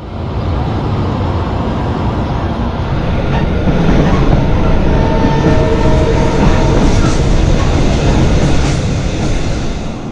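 Passenger train on the Banha to Mit Ghamr line running on rails, a loud steady roar with rolling wheel noise and faint rhythmic clicks throughout, heard from close by.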